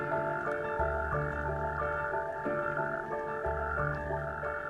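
Natterjack toads call at night beside a pond in a loud, continuous chorus of rolling, ratcheting trills, several overlapping voices pulsing steadily and close with no talk.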